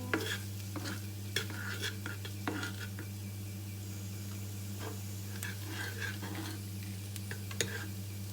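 Halusky dumplings stir-frying in oil: repeated scraping and clinking of a utensil against the pan over a steady low hum and soft sizzle, close and unhurried, with no talking.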